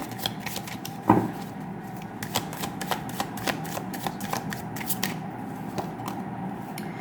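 Tarot cards are shuffled and handled at close range, with a steady run of soft riffling flicks and one sharper slap near the start. No one speaks.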